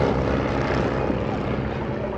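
Two vintage FE2B biplanes fly overhead with a steady, loud propeller and engine drone that holds evenly throughout, at a Martinborough vintage aircraft display.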